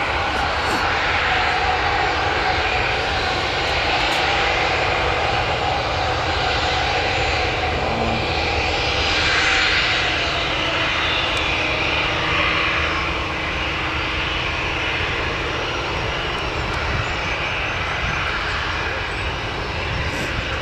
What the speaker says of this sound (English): You can already hear him putting the throttle up.